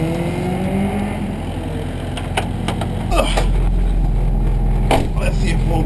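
A Honda CRX engine, still running but not fixed, idling with a low rumble and then revving up noticeably louder about halfway through, with clicks and knocks nearby and a person talking over it.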